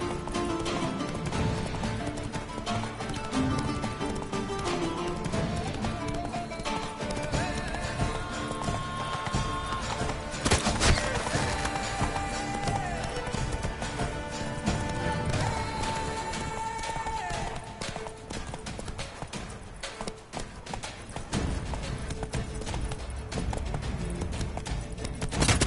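Horse hooves clip-clopping at a gallop in The Witcher video game, a steady rhythmic beat with an occasional whinny, running continuously over a dense bed of game music and effects.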